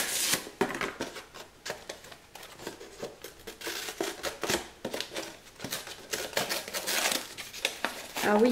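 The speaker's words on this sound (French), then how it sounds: "c'est toujours galère à ouvrir leur plastique" Crinkly plastic rustles and tears in irregular bursts up close, with handling noises throughout and a brief voice near the end.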